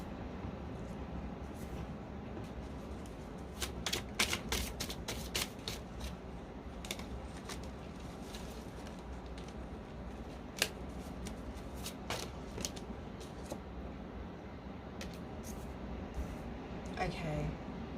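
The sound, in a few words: shuffling tarot cards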